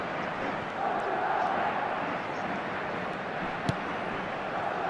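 A dense stadium crowd roars and murmurs continuously in an eFootball match, with a broad, steady wash of noise that swells slightly and carries on without pause.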